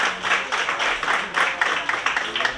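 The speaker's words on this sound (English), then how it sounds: "let's give them another round of applause" Applause from a graduation ceremony audience at Grenville Secondary School, a steady wash of many hands clapping at moderate volume with slight rises and falls, continuing throughout without a break.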